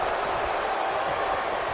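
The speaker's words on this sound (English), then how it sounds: "The sound of this crowd is deafening, and he's asking for more." Steady, dense roar of a wrestling arena crowd cheering during a tag-team match, a continuous loud wash of voices with no breaks, heard alone.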